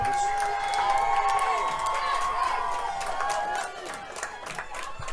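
A crowd at a football game cheers and hollers under close talking, with a noisy swell of voices that gradually fades toward the end.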